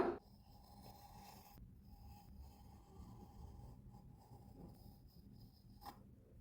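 Pencil drawing a circle on paper for a school geometry exercise, a faint continuous scratchy rub, quiet and close, with a couple of soft taps and no talk.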